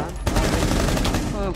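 A short burst of rapid automatic gunfire in the video game Tom Clancy's Rainbow Six Siege, loud and close for about a second and a half.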